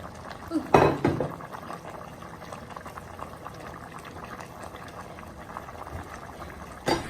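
Chopped red and green capsicum dropped into a simmering pineapple chicken curry in a pot: a steady bubbling simmer with a splashy plop near the start and another at the end.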